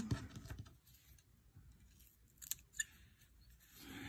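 A plant rhizome is cut in half with scissors or shears, giving one crisp snip near the start and a couple of sharper clicks later, up close against a quiet background.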